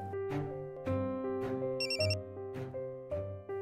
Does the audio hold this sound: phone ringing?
yes